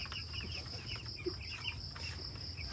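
Chickens cluck softly in short bursts on a farm against a steady background of chirping insects, fairly quiet and a little distant.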